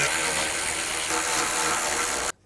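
Tightening engine mount bolts on a 2006-2011 Cadillac DTS with a power tool, a loud steady whirring drone held for about two seconds close by, then cutting off abruptly.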